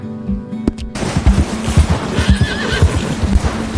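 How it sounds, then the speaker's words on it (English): A video game horse whinnies over rapid hoof clip-clops, with sharp percussive bangs like gunfire mixed in a busy game soundscape. "One of my favorite horses in the game"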